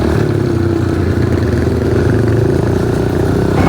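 A Kawasaki KLX 110 trail bike engine droning steadily at moderate revs while riding through a burnt bush trail, a close, continuous buzzing hum with no voices.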